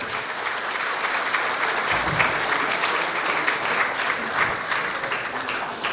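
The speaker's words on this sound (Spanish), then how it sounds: "Rogamos a toda la audiencia un aplauso para nuestra mesa directiva de este auto" A large conference audience applauds the presiding panel at an inauguration ceremony, a dense, steady wash of many hands clapping that holds evenly from start to finish.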